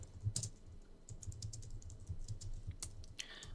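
Quiet, close typing on a computer keyboard, irregular clusters of soft key clicks with brief pauses, alone in a still room.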